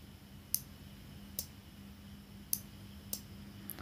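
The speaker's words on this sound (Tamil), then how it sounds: "இப்போ அந்த டிக் டிக்னு சவுண்டு கேட்குது பார்த்தீங்களா." An electrical relay clicks sharply as its coil is energised, with a handful of irregular, faint, crisp ticks spaced apart over a low steady hum.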